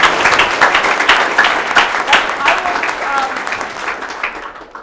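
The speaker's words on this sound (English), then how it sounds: "a big round of applause for Mary Roach" A convention audience claps for author Mary Roach at the close of her interview, a loud burst of applause that holds steady and then tapers off at the end.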